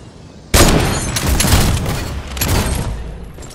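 Loud burst of gunfire from Fortnite starts abruptly after a short lull, with heavy overlapping shots and booms rolling on for about three seconds, close and dense.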